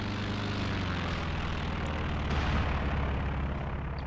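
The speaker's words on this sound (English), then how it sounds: "Another Recon plane comes up" A recon plane in a video game roars overhead with a loud, steady propeller engine drone that swells slightly midway, continuous and without voices.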